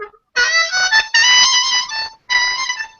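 Harmonica seventh-hole draw notes, retuned flat, played in two short phrases with a pause between, clear and sustained, slightly lower and bluesier in character, no talking.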